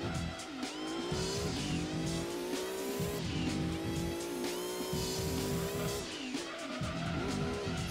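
Race car engine in Gran Turismo 2 on PlayStation, a high revving drone rising and falling through gear shifts, with tires squealing through corners, loud and continuous with no talk.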